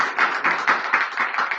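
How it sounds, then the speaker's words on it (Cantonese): A small audience at a Hong Kong press conference on a youth survey claps briefly. The claps come in a quick, fairly regular patter, close and moderately loud. "我哋熱烈掌聲，多謝李博士先。"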